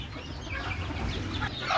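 Native chickens cluck softly in their coop, a faint, continuous scatter of short calls at close range with no speech over them.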